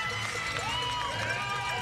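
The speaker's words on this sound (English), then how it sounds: "it's this man that the crowd erupt for" A crowd roars steadily at the Mont Sainte Anne downhill mountain bike World Cup as Loic Bruni takes the win, a dense, continuous wall of cheering with no clear breaks, loud and close throughout.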